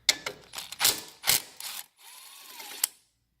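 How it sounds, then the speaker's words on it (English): An impact wrench with a 10mm socket backs a bolt off a Silverado brake hose bracket in several short, sharp rattling bursts, followed by a steadier whirr as it spins free, then a final brief hit. "we're going to take our impact to the 10mm socket and undo this socket"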